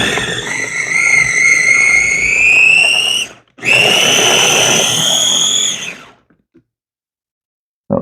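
An electric mixer whirs loudly and steadily while blending cream cheese wonton filling with spinach, running for about three seconds, cutting out briefly, then running again before stopping.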